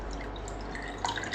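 Water drips from a freshly drained orchid in a short, close run of soft droplets, one brighter plink standing out near the end over a faint steady background, with no one talking.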